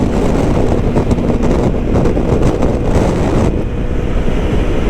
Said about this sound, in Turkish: Buralar genelde bu yol istikameti rüzgarlı.